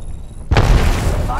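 An Arc Star grenade detonating in Apex Legends: a quiet lull, then a sudden loud burst with a rumbling, crackling tail that fades slowly. Voices may be present.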